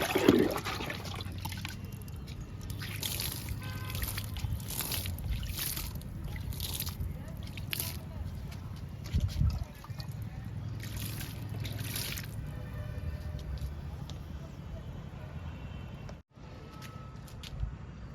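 Liquid fertilizer poured onto flowering vinca plants in a garden: a steady trickle and splash of water lasting the whole stretch, close and moderately loud, with a few brief knocks and rustles along the way.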